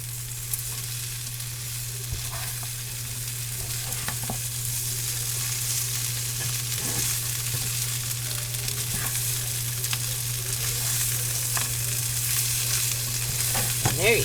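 Diced potatoes and sausage sizzle steadily in a single pan as they are stirred, with occasional scrapes and clicks from the utensil over a constant low hum.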